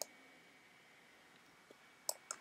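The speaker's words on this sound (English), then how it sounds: "by right clicking and then duplicate" Crisp computer mouse clicks during video-editing software work, a couple of sharp, close, quiet clicks near the end after a near-silent stretch, with no voices.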